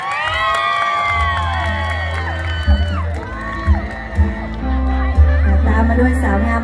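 A crowd cheers and whoops for a contestant at a Thai beauty pageant held with a long-boat racing event, a loud sustained roar of voices with shrill shouts rising over music, with someone speaking over a microphone.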